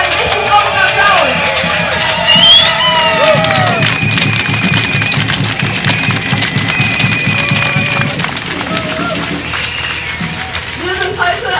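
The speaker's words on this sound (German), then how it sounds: "Auch dafür nochmal einen richtig großen Applaus!" A large outdoor crowd at a climate and social security rally claps and cheers loudly, with a stretch of rhythmic, pulsing clapping in the middle and whistles and shouts over it throughout.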